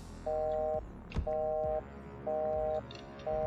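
A comically small telephone in the found-footage video game Fragments buzzes in four evenly spaced, steady tone bursts, each about half a second long, with short quiet gaps between them.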